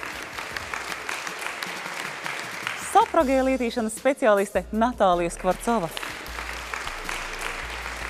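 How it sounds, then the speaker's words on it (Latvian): Audience applause at a live show event, a broad wash of clapping that fills the opening seconds, drops under an announcer's voice, then swells back in toward the end. "Un aplausu sēriju noslēdz ovācijas reklāmas aģentūras Beyond Brands komandai"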